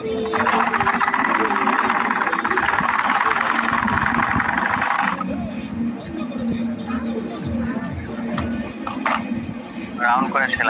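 A sewing machine stitching round a hijab neckline runs in a fast, steady, loud rattle for about five seconds, then stops, leaving soft handling noises and a voice speaking.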